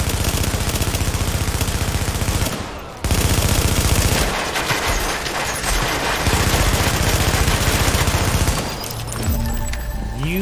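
An automated turret firing in The Division video game, a continuous rapid stream of loud shots that drops out briefly and resumes, sustained and close throughout.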